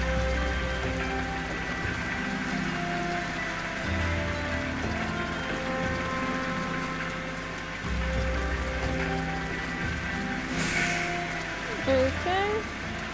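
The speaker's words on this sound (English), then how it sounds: "And it has to be raining on this sad occasion." Steady rain falls in the video game Final Fantasy XIV, a continuous soft patter under looping game music with low tones and a brief higher swell near the end; no speech is heard.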